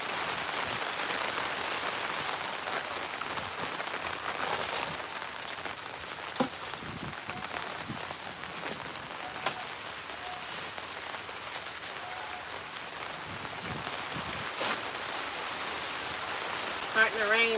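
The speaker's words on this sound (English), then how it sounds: "Starting to rain pretty hard here" Hard rain falls steadily on a farm plot, a dense even hiss with scattered louder drops and taps, continuous and fairly close throughout.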